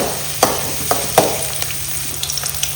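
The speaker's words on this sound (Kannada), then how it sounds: "ಸ್ವಲ್ಪ ಕರಿಬೇವು ಇದು ಒಳ್ಳೆ ಫ್ರೈ ಆಗಲಿ ಈರುಳ್ಳಿ ಪರಿಮಳ ಬರಲಿ" Onion and curry leaves fry in a pan as egg sukka is made, giving a steady close sizzle with a few sharp stirring clacks of a spoon against the pan.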